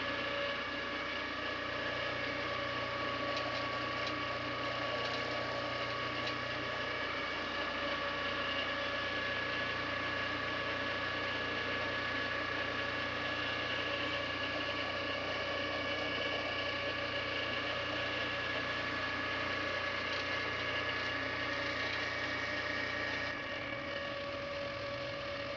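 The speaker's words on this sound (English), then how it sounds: "I'm eliminating the taper by just going up the log far enough while moving the blade horizontally." A Turbosawmill blade rig milling a big white pine log grinds and whirs steadily with clicking, ratchet-like mechanical noise and a low motor hum, continuous and fairly close, with no voices.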